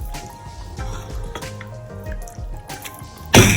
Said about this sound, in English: And with our water, we're just going to be adding it to cover our rice.